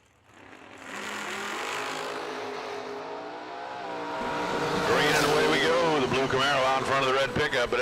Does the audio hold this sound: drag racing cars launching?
yes